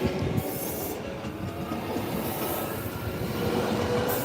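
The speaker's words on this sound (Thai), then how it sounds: "รถไฟไปแล้ว" A train rolls past in Japan, a steady continuous rumble of wheels on rails holding at close range for the whole stretch, with no voices over it.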